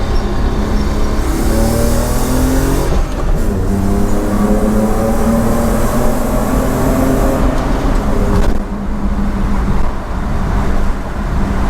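A BMW E28 with an M50B25 engine swap, Schmiedmann headers and a 3-inch stainless exhaust accelerates hard in second gear in a tunnel, its engine note climbing loud and raspy with wind rush, briefly easing near the end.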